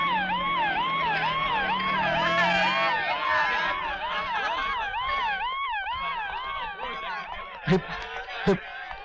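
An ambulance siren in a Hindi film scene wails in repeated rising and falling sweeps, loud and close, over crowd bustle and a low drone, with a couple of sharp knocks near the end.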